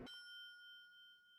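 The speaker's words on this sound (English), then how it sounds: "ding dong, it came to a sudden stop." An elevator arrival chime rings in the video game Danganronpa, a single clear bell-like ding that strikes at once and then hangs and slowly fades, with no talking.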